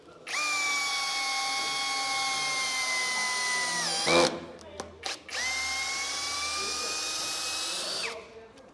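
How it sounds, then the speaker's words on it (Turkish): An impact drill drives a 20 cm screw into a 10 by 10 timber post, whining loudly and steadily for about four seconds, pausing briefly with a few clicks, then running hard again for a second long stretch. "bu sefer 20 santimlik vidayı yine az önce kestiğim 10'a 10'a dik şekilde vida atarak ne derece kuvvetli olduğunu sizlere göstereceğim"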